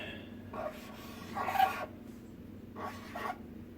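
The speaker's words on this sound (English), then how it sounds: "I'm just write down what I had already wrote down so y'all can see it" A pen scratches a score onto paper in two short bursts of close, faint scribbling over a low steady room hum.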